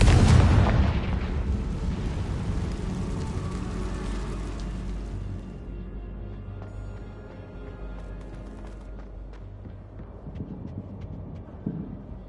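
A Confringo fire-spell explosion in Hogwarts Legacy opens with a loud, sharp boom. A long rumbling tail follows and fades gradually over several seconds.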